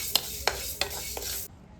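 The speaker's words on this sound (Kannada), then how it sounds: "ಆಮೇಲೆ 2 ಟೇಬಲ್ ಸ್ಪೂನ್ ಮೆಂತ್ಯ ಹಾಕೊತಾ ಇದ್ದೀನಿ. ಇದು ಅಷ್ಟೇ ಲೋ ಫ್ಲೇಮಲ್ಲಿ ಫ್ರೈ ಮಾಡ್ಕೊಳ್ಳೋಣ." Fenugreek seeds frying in a pan over a low flame, a soft steady sizzle with four sharp clicks of a spoon against the pan, then cutting off abruptly.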